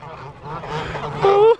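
Canada geese in a park give one loud, near honk with a clear harmonic call, preceded by softer overlapping calls from the flock over a low background murmur.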